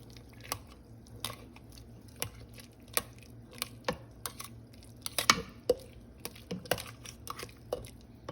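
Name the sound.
mixing kheer rice pudding with whipped cream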